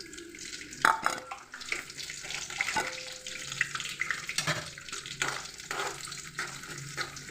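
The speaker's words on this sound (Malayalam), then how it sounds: "ഞാനിപ്പോൾ തേങ്ങയാണ് വറുത്ത് ചേർക്കുന്നത്, അതൊന്ന് മൂപ്പിച്ചെടുക്കാം" Chopped coconut pieces sizzling in hot oil in a pan, an irregular crackling and spattering with a few sharp pops and clatters of a utensil.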